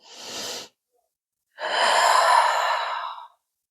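A deep breathing exercise during a chest-mobility workout: a short audible inhale, a pause, then a longer, steady exhale pushed out from the pelvis, close and breathy with nothing else around it.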